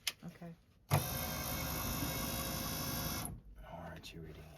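An RV electric motor runs on a full battery, a steady mechanical whir with a high whine starting abruptly and holding for about two and a half seconds before cutting off, with brief talk before and after.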